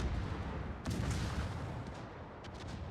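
Heavy naval gun salvos from warships in World of Warships, a deep booming blast followed by rumbling echoes and a few fainter distant shots, with no talking.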